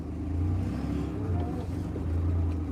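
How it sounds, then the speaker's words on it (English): An engine revved a couple of times so it will settle into an idle without stalling, a steady loud low rumble with swelling surges, voices faintly mixed in. "Gotta rev it a couple times so it'll idle without dying."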